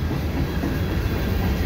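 Gray boxcar on a CPKC mixed freight train rolling past in winter, a steady close rumble of wheels on rail with faint clickety-clack throughout.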